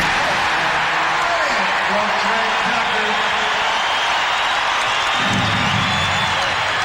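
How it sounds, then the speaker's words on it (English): A basketball arena crowd in Chicago for a 1993 Knicks–Bulls game keeps up a steady loud roar, with a commentator talking over it throughout. "Boy, this crowd is buzzing right now."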